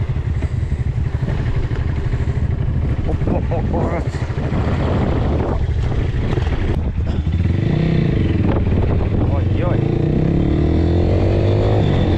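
A Geon GNS 300R motorcycle ridden through town at night with no exhaust muffler, a loud raw engine roar rising and falling through revs, with a rider talking over it.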